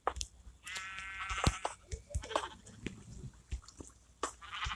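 Sheep on a sheep farm in a video game give a few short, close bleats scattered among clicks and crunching sounds.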